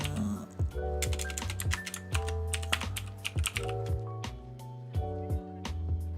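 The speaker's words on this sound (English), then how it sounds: "And type on my keyboard underneath the table." Typing on a computer keyboard beneath a table, a close, uneven run of soft key clacks and taps over several seconds, with faint tonal background sounds underneath.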